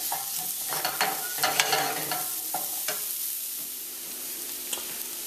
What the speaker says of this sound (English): onion and garlic is going to go in there, as well as the scotch bonnet pepper. And we're going to soften that up